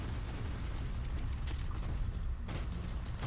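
A base boost gun fires repeatedly in the sandbox shooter Sector's Edge, giving dense, hectic booming blasts and crunching bursts over a constant rumbling game din.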